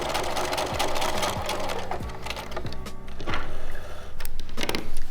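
A home sewing machine running in bursts as it stitches a seam, a steady mechanical whir with rapid needle clicks, close and fairly loud with brief pauses between runs.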